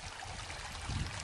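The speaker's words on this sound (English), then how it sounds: "you can hear the water burbling." Water burbles softly along Whychus Creek, a restored stream channel, giving a faint, steady trickling wash heard alone.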